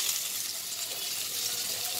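Onion frying in hot oil with a chilli, a continuous bright sizzle, steady and fairly close, with no talking.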